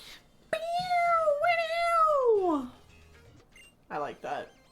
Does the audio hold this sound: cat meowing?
yes